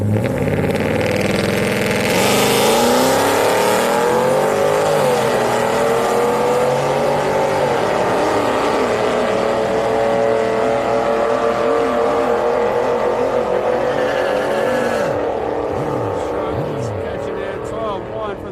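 Drag race run at Houston Raceway Park during street night, two cars roaring hard down the track with sweeping, revving engine tones and gear changes, loud and sustained, with a commentator talking over it.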